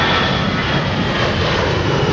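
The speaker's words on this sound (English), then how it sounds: "a plane." An airplane passes low overhead, a loud, broad jet roar that fills the whole moment steadily with no talk over it.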